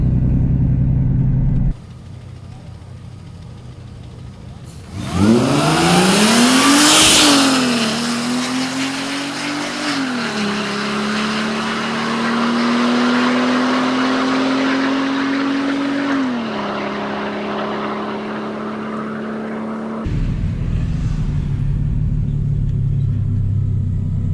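A Mercedes SLK32 AMG engine roars and revs hard as it launches on a drag strip, then climbs steadily through gears with a loud sustained drone before cutting back.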